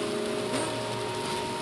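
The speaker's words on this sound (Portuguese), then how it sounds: "A chuva tá aí, né?" Steady rain falls near a window at the edge of Belo Horizonte, a continuous broadband hiss with faint low hum beneath it and no talking.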